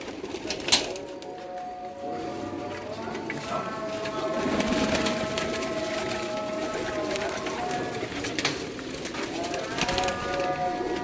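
Caged pigeons of a home-bred flock in a Multan colony loft coo softly and steadily throughout, with someone talking nearby over the birds and faint rustling in the background.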